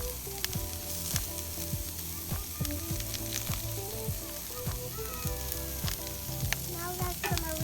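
Sliced ham sizzles in a pan over a Coleman camping stove, a continuous close crackle and spatter with light stirring knocks scattered throughout.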